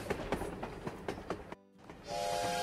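A locomotive in a train-building video game: a rumbling run with rhythmic clacking beats, a brief drop-out, then a steady tonal hum that holds to the end.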